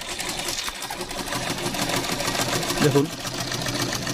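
A Singer sewing machine stitches as its handwheel is turned forward, giving a soft, steady mechanical whir over a few seconds while a person talks over it.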